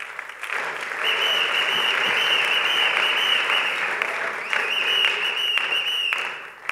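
A church congregation at a Sunday worship service applauds in sustained, dense clapping that fills the room for several seconds, swelling slightly and then tapering off at the end.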